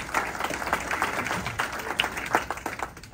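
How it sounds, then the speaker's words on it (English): An audience at a community dialogue event applauds a computer club. Dense, moderately loud clapping from a roomful of people continues throughout, with no talking over it. "And so everybody applaud the computer club."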